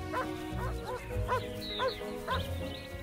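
Shepherds' guard dogs on mountain pastures bark repeatedly in a rhythmic series of sharp barks about every half second, moderately distant, with a brief higher yelp in between.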